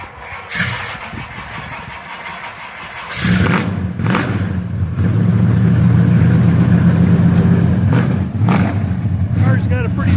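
A 1969 Chevelle SS V8 fires up after a few seconds of quieter sounds, then settles into a loud, deep, steady idle rumble close by, with brief blips of revving near the end.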